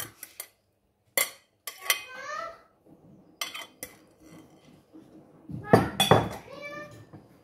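A spoon stirring pork massaman in a pot: sharp metallic clanks and scrapes against the pot in scattered bursts, loud and close, separated by quiet gaps, with brief bits of voice in between.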